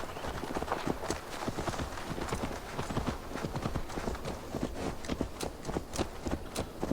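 Horse hooves in Assassin's Creed Valhalla, a continuous, steady clip-clop of a ridden horse moving at a brisk pace, close and even over a dense background, with a voice faintly underneath.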